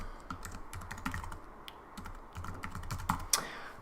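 Fingers typing an email address on a computer keyboard, a quick steady run of close key clicks with slightly louder taps near the end, no talking over it.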